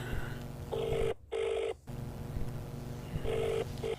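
A telephone rings during a call, with a repeated electronic ring tone in two-part bursts separated by short gaps, fairly loud and close over a steady background hum.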